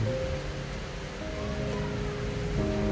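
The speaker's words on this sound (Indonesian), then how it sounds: "Musim hujan masih tetap lanjut di Tangerang. Dan kebetulan hari ini agak deras juga ya." Heavy rain with a fairly strong wind in Tangerang during the rainy season, a steady, dense wash of noise that holds evenly throughout with no voices.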